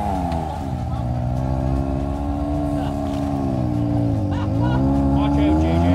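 An ATV engine running outdoors, a loud sustained motor drone that rises and dips in pitch as it revs, with voices talking over it.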